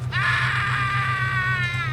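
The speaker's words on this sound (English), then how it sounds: "The crazed lone wolf's spirit screams." A crazed lone wolf's spirit in the video game Divinity Original Sin 2 lets out a sustained, wavering, high scream that holds steady and loud throughout, over a low droning hum.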